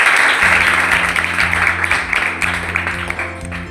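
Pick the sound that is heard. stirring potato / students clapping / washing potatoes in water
students clapping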